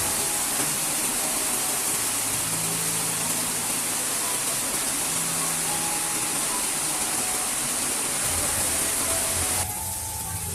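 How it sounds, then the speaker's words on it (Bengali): Hilsa fish cooking in hot oil with turmeric and chili, a steady close sizzle and hiss running unbroken and loud throughout, with a brief change near the end. "জাস্ট তেলের মাঝে হলুদ মরিচ দিয়ে আমি মাছটা ভুনা করে নিচ্ছি"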